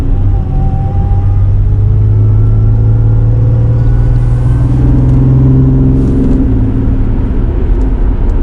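Supercharged V6 Mercedes AMG engine pulling hard, a loud sustained droning roar with tones climbing as revs build through the run, heard from inside the car with no talking.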